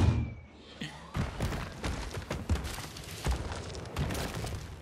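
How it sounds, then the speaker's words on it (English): Heavy cannon impacts and crashing thuds strike a vehicle in the Lego Fortnite video game, a series of loud, sharp hits and clatters spread across the moment, with no talk over them. "you broke us with the fucking cannon shot"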